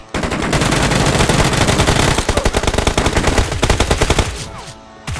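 Rapid automatic Uzi gunfire in the PUBG video game, loud sustained bursts of closely spaced shots with short breaks between them, heard alone with no talk.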